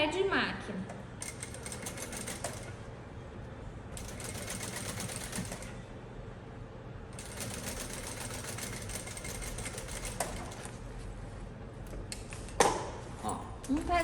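A sewing machine stitching the synthetic lining of a girl's backpack runs in several bursts of steady rapid whirring, separated by short quieter gaps and a few clicks near the end.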